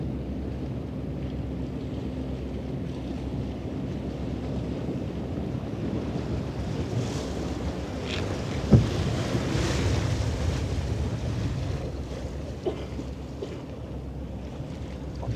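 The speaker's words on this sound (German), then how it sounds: "Oh, guck mal, jetzt kommt hier die Welle." Wake wave from a large container ship washing ashore on a waterfront, a continuous rushing wash of water with wind buffeting the microphone and a brief thump midway, no talk.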